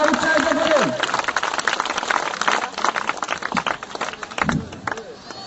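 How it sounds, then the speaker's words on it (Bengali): Applause from an audience at a school batch program welcoming Olympic torch bearers, broad clapping and crowd noise filling the clip at moderate loudness, with a voice talking over it early on. "আসুন করতালির মাধ্যমে তাদেরকে আমরা উৎসাহিত করি।"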